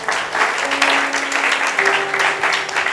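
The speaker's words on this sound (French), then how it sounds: "Acclamons pour la gloire de notre Dieu." A congregation at a church service claps together in sustained applause, dense and steady for the whole stretch, with some voices mixed in.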